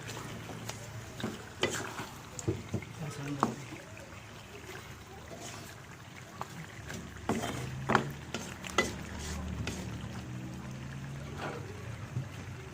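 Chicken barbecue pieces stirred in a pan with seasoning, a soft scraping and shuffling under steady low sizzle, with several light knocks of the utensil against the pan.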